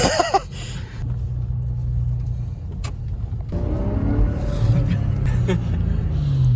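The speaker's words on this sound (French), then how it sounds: "je sais pas si vous entendez le bruit quand on monte à 6000 tours" A Porsche Boxster convertible engine idles low, then revs up toward 6000 rpm with a rising growl that climbs and holds, loud and close.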